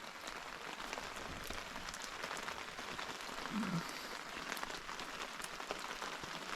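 Rain pattering on a tent while someone sits inside on a cold day, a dense, steady hiss of drops with occasional sharper taps, soft and continuous throughout.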